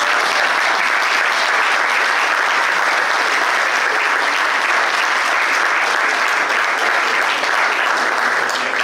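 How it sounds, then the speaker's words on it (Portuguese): A dinner audience for a local band applauds its music school, giving loud, dense, sustained clapping that fills the room evenly for nearly nine seconds with no break and no speech. "Uma salva de palmas para a nossa escola de música."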